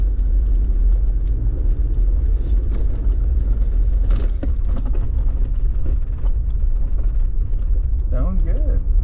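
A manual truck pulls away in second gear with a loud, continuous engine rumble and road drone heard from inside the cab. A voice speaks briefly near the end.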